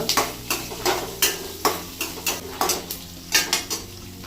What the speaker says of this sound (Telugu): వెల్లుల్లి కొద్దిగా అల్లము వేసి కాసేపు వేగిన తర్వాత